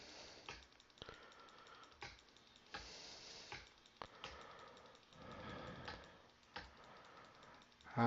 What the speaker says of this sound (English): You probably can hear me double clicking or clicking away like crazy on this